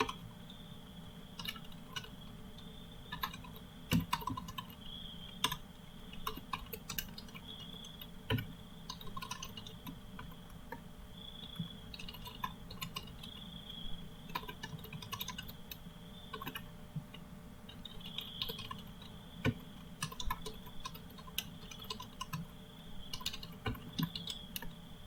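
Someone typing code on a computer keyboard, with soft, steady key clicks and occasional sharper taps continuing throughout, close and fairly quiet over a low room hum, with no voices.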